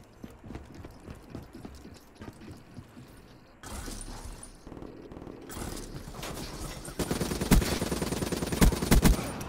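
Gunfire in Call of Duty Black Ops III comes as rapid clattering bursts of game shots that grow louder and denser toward the end, with no talk over them.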